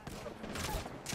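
Rapid sustained gunfire in the battle royale game Apex Legends during a competitive scrim, dense overlapping shots over about a second, mixed under talk.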